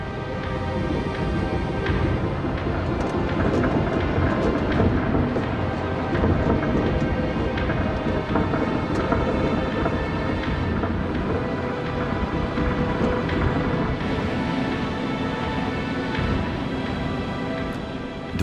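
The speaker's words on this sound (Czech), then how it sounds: "Ponorka byla zmítána vichrem a opakovanými bouřemi." A storm rages at sea around a submarine on an Arctic voyage, with thunder rolling over a constant heavy wash of rain and wind that stays loud throughout.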